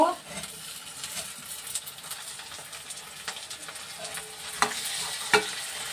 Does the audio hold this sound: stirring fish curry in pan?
yes